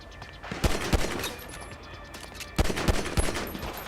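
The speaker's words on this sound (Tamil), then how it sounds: "ஐயோ எங்கடா வந்து சுட்டானுங்க?" Gunfire in GTA 5 Online cracks out as two short bursts of sharp shots, a few quick reports each, separated by a quieter gap, moderately loud with no voices.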